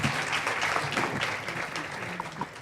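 An audience at a scholarship luncheon gives a short, steady round of applause for culinary arts students, a dense wash of many hands clapping that holds at an even level throughout.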